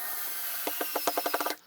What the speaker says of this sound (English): use my power screwdriver from Black & Decker